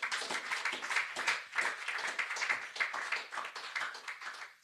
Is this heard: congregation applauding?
yes